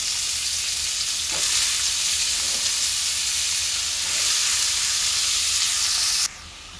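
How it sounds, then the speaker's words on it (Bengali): Cauliflower florets frying in a pan with cumin seeds, a steady loud sizzle running throughout with a couple of faint scraping stirs, then dropping to a lower hiss near the end. "এই যে ফুলকপি ভাজি করতেছি"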